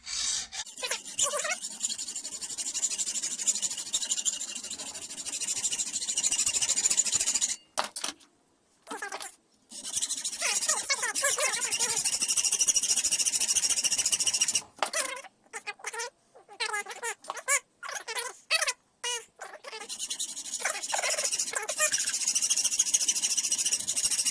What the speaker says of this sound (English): tidy that up with the file, make sure it's square